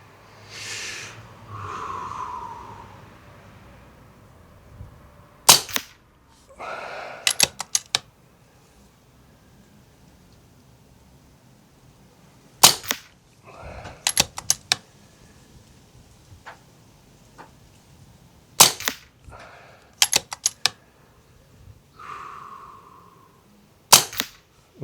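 A Daystate Blackwolf grey laminate air rifle fires at targets at 25 and 50 yards, making sharp, isolated snapping shots scattered across the clip with quiet gaps, some in quick pairs and a few faint clicks between. Brief soft sounds come before the first shots.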